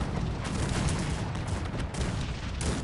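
Battlefield cannon fire in the real-time strategy game Cossacks 3, a dense, continuous barrage of overlapping blasts and crackling volleys that blur into one another at a fairly low, distant-sounding level, with no voices.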